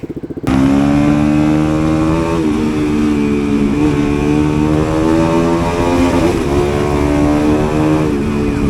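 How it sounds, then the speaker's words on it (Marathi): A motorcycle, a KTM-built NS200 fitted with an SC Project aftermarket exhaust, cold-starts abruptly in the morning and settles into a loud, deep, steady idle with a throaty, rumbling exhaust note. "फर्स्ट कोल स्टार्ट आहे फर्स्ट मॉर्निंगचा भाई क्रेझी साऊंड आहे"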